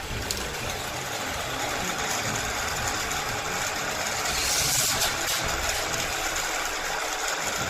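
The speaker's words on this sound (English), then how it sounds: "Ben's turning on the boosters" Electric boosters on a living-room toy race track whir steadily in a continuous, fairly loud motorized drone with a brief swell midway, and no talk over it.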